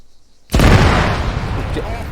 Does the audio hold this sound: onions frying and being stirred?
no